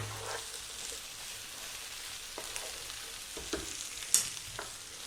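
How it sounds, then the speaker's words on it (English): Mushrooms, potatoes, eggplant and corn stir-frying in a pan for a tofu yellow curry, giving a steady soft sizzle with occasional scrapes and light clicks of stirring, no voices. "stay on this heat and go for about another 4 minutes, stir frying it around in the pan there"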